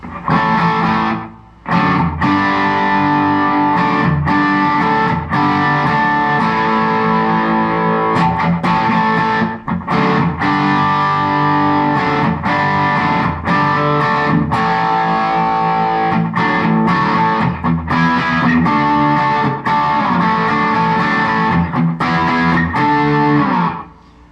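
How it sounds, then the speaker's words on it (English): Electric guitar runs through an amp's crunch channel with a built-in Klon-style boost, slapback echo and plate reverb (Line 6 HX Effects), playing a continuous, gritty riff of chords and notes for about twenty seconds, loud and up front. "And that is just a crunch channel on the amp using a Klon style boost built into the amp"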